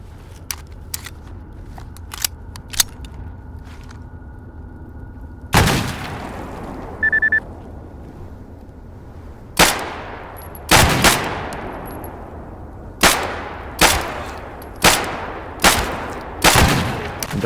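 Shotgun blasts in the video game GAMMA: loud, sharp single reports with ringing tails, a few isolated shots at first, then a rapid run of evenly spaced blasts.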